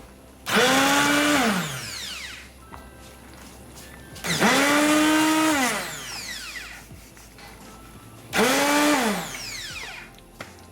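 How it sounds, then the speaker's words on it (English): Three loud bursts from a hand blender mashing cooked eggplant, each a few seconds long, whirring with a rising then steady pitch, separated by short quiet pauses. "hand blender."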